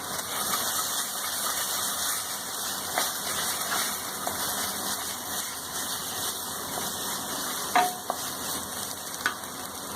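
Ginger garlic paste fries in a hot pan with a steady broadband sizzle, stirred throughout with a few sharp utensil scrapes and clicks near the end, close and fairly loud with no talking.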